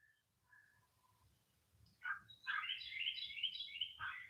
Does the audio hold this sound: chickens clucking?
no